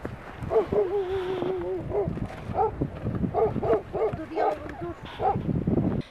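Cold stray puppies at an outdoor feeding area whimpering and yipping in short, high, wavering cries and small barks, close by, with voices talking and handling noise mixed in.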